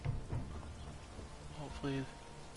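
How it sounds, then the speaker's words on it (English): Steady rain hisses in the background with a low rumble of thunder, and a voice briefly speaks over it. "Ah, it's raining."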